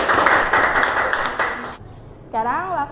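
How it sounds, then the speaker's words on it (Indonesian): Short burst of clapping for students in a fashion-design teaching session, fairly loud for under two seconds and then stopping abruptly, followed by a voice speaking. "Kita tepuk tangan untuk kalian semua."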